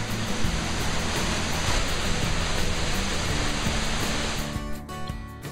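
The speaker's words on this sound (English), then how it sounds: "a little jaunt to a local natural attraction, a waterfall" Near Dalat, Vietnam, a waterfall roars in a steady, dense rush of falling water, loud and close throughout, easing slightly toward the end.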